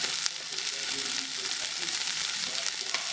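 Seitan sizzles steadily in a pan with seasoning, a dense, even frying hiss with faint crackles, close up and alone without talk.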